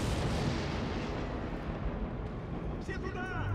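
Heavy gunfire and explosive booms in the World War II sniper game Sniper Elite V2, a loud continuous rumble that fades slightly, with a brief voice near the end.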